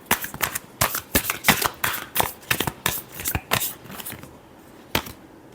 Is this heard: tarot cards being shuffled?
yes